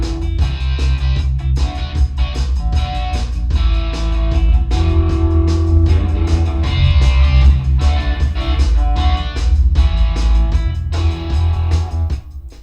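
Dense, full-band music rings out continuously and loudly, washed in a fully wet Bricasti hall reverb that blurs and sustains every note and beat across the whole passage.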